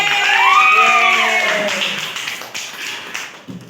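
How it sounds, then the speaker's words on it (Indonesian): Students in a classroom clap after a static-electricity balloon demonstration. The brief burst of clapping rises under a teacher's voice, then thins and fades over a few seconds. "Tepuk tangan dong."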